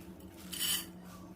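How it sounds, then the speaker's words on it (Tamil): Nuts tipped into a kadai land in a brief rattling, scraping rush at the middle of the moment, with a low steady kitchen hum beneath and no talking. "இப்போ அதே கடாயில் நம்ம இந்த நட்ஸை பூரா நம்ம போட்டுக்கிடுவோம்."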